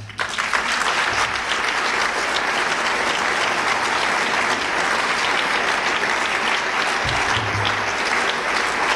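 A large audience at the National Book Awards ceremony applauds in a loud, sustained wash of clapping that holds steady throughout, with a few faint voices beneath.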